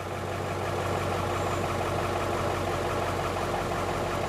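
A Ford E350 van's 7.3 Powerstroke diesel idles cold after sitting a few days, a steady, even low rumble with a rhythmic knock, close and alone with no talk.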